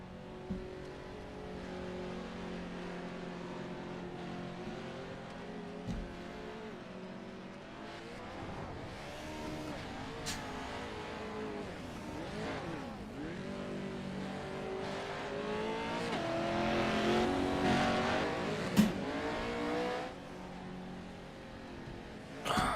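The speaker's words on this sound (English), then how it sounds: "Everybody pulling out on the track, trying to get some track time." Race cars on a short dirt oval at Minute Man Racing, Crandon, with engines droning and revving in waves as cars circle at a distance, building louder toward the end.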